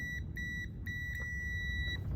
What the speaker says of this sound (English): So if it beeps, we have a problem